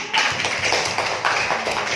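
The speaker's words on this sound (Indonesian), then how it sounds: "Ayo, kasih tepuk tangannya." Students in an Indonesian classroom clap together during a lesson. The clapping comes in quick rhythmic bursts, close and fairly loud, and carries on for the whole moment.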